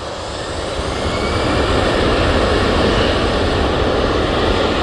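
An Airbus A321ceo airliner departs Manchester Airport, its jet engines a loud, steady broadband roar that swells slightly over the first second and then holds, with no voices.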